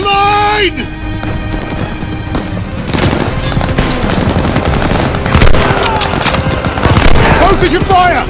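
Rapid machine gun bursts crackle continuously through a World War II battle in Call of Duty: Vanguard, loud and close, layered with shouting voices, explosions and dense combat noise.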